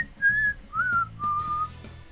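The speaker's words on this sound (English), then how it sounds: "I probably shouldn't whistle into my microphone" A person whistles a short wavering tune close into a microphone, three or four sliding notes in quick succession, loud and alone without any talk.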